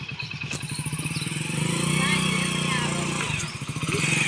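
A motorcycle being ridden, its engine putting out a steady chugging putter that swells as the throttle opens, close by, with people talking over it.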